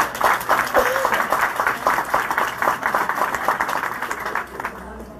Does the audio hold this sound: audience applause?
yes